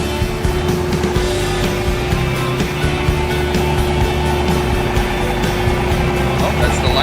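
A John Deere 2038R compact tractor's engine drones steadily while driving, a constant low hum with faint rattles throughout, fairly close and unbroken.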